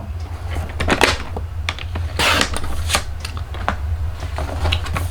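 A paper trimmer slices cardstock at the 4-inch mark for a pop-up Christmas card, a close series of crisp clicks, sliding scrapes and paper shuffles in uneven rhythm, with no one speaking.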